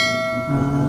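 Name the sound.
notification bell sound effect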